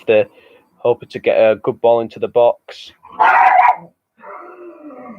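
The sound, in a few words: dog barking in the background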